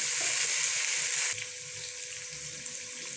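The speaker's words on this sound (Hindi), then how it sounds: "अब हम इसके अंदर ये टमाटर डाल रहे हैं" Tomatoes drop into a pan of frying aubergine and potato curry, a loud broadband sizzle that eases down partway through and then carries on steadily with light stirring, no voices.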